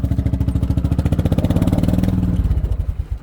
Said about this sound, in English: Now we're pulling a quad.